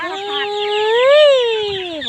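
A single close chicken call, a drawn-out tonal cluck rising and falling over about two seconds, loud and alone.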